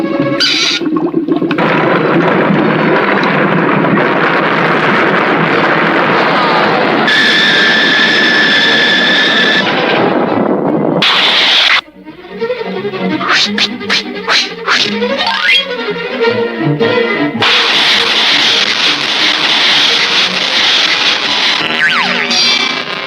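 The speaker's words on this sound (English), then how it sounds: "Here is the volcano machine. You see, I simply start pumping" A cartoon volcano machine is pumped, producing loud, continuous mechanical whooshing and roaring, then a brief drop followed by rapid springy boing-like pulses and rising rumbling effects.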